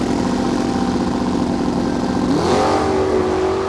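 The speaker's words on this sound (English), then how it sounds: "McQueen was enjoying racing in the snow" A toy Lightning McQueen race car's engine revs loud and steady in a snowy play scene, its pitch sweeping upward partway through before holding a higher whine.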